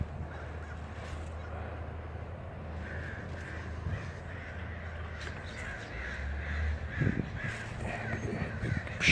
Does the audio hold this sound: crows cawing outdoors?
yes